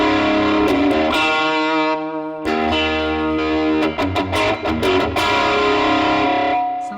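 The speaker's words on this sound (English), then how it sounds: "Tube screamer." Electric guitar played through a Tube Screamer overdrive effect on a NuX Mighty Plug headphone amp, loud and continuous, with sustained driven chords, a brief pause near the middle and a series of strummed stabs toward the end.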